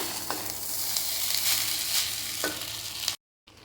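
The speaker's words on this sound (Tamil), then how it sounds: "அந்த மசாலாவும் சாதத்தோடு நல்லா மிக்ஸ் ஆகணும், அந்த அளவுக்கு வந்து நல்லா ஃப்ரை பண்ணிக்கலாம்" Pepper rice frying with masala in a pan, a close, steady sizzle with a couple of stirring scrapes, then it cuts off abruptly near the end.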